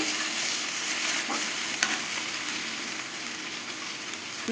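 Chopped onions fry in a pan for a Bengali dish of small fish with bottle gourd, giving a steady, close, continuous sizzle that runs without break through the whole stretch, with no voices.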